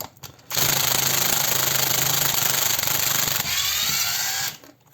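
A DEVETECH CIW-500 cordless impact wrench runs at first speed, a steady loud mechanical whirr and rattle lasting about four seconds, its tone shifting partway through before it stops.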